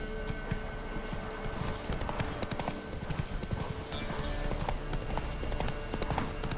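Geralt's horse Roach galloping in The Witcher 3: Wild Hunt, a steady rapid clip-clop of hooves running continuously at moderate loudness with a busy outdoor game soundscape behind.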